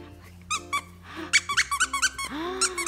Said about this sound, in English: Look, it squeaks, Bashy.